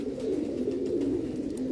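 Pigeons coo in a steady low murmur, several birds overlapping continuously and fairly close, with no talk over them.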